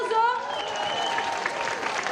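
Audience applause after a live performance of an unreleased song, a steady dense clatter of many hands filling about two seconds, with a voice speaking over the start.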